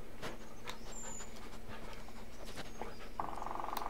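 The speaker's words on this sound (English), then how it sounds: "No, bad dog." Dog panting in the horror video game Blair Witch, a steady quick breathing rhythm running through the whole stretch over faint ambient game sounds, close and moderately loud.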